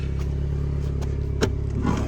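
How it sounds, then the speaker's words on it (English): Alpine A110S idling with its exhaust valves open, a low, steady, throbbing burble close up, with a couple of faint clicks and rustles inside the car. "that's the valves open. You can hear the exhaust there."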